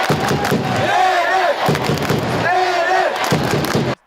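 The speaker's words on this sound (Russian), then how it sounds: "С самого начала игры болельщики на трибунах уже заряжены энергией и подгоняют вперед своих любимцев." Terek football supporters roar and chant in the stadium stands, a loud, close crowd with rhythmic surging shouts and heavy thumps, swelling in waves before cutting off abruptly at the end.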